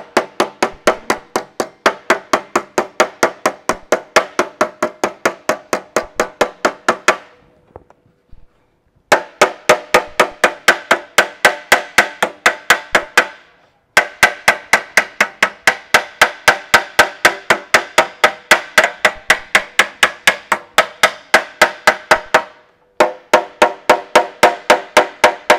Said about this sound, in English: that ball peen hammer comes in handy to finish off the underside